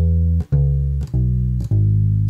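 A low, sustained walking bass line on guitar, four plucked notes each ringing about half a second, stepping along evenly with no voices.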